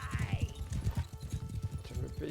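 Horse hooves clip-clop in a steady galloping rhythm through a Mount and Blade 2 Bannerlord battle, with a brief whinny near the start and combat noise around it.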